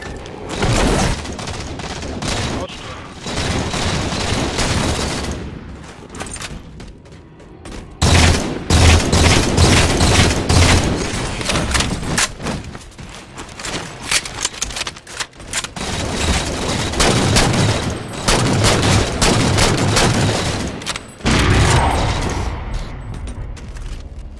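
Heavy gunfire and booming grenade explosions fill a Halo 4 Slayer multiplayer match, with near-constant loud bursts and blasts broken by brief lulls.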